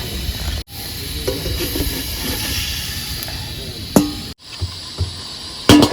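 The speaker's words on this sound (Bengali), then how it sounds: "জল দিয়ে দিলাম, এবার ঢেকে দেবো, কিছুক্ষণ ফুটবে" Crab curry simmers with water in a covered pot aboard a boat, giving a steady hiss and steam-like noise with a few sharp clicks and knocks, close up and without talk.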